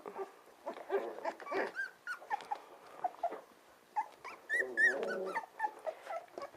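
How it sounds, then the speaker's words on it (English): Several dogs playing inside a house, trading soft growls, grumbles and whimpers in uneven bursts, fairly quiet and close, with no talking. "These dogs are playing."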